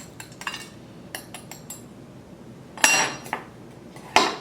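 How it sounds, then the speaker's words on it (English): A knife chops frozen, slightly icy peeled bananas into halves or thirds on a board before they go into a Vitamix for a cacao smoothie. Several sharp knocks and clinks come close by, with two louder chops near the end. "I'm just cutting them down into halves or thirds to make things easier for the Vitamix"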